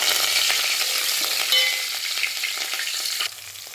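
Curry leaves sizzle in hot oil with tempered cumin for an eggplant masala, a loud, dense, steady hiss up close that eases slightly near the end.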